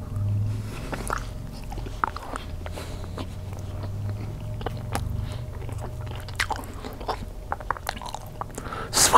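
Close, crisp biting and wet chewing of a chicken and mushroom melt sandwich with Swiss cheese, repeated bites and crunches in a steady rhythm with no talking.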